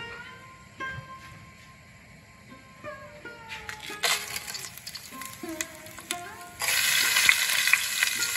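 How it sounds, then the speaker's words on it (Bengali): Panch phoron and two dried chillies hitting hot oil in a pan, a rising crackling sizzle that grows louder and denser toward the end, with occasional clinks of a utensil. "পাঁচ ফোড়ন দিলাম আর 2টো শুকনো লঙ্কা দিলাম।"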